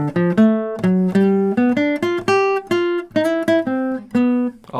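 A jazz guitar plays a scale over a 2-5-1 progression, one clear plucked note after another in an even rhythm, close and prominent, with no talking.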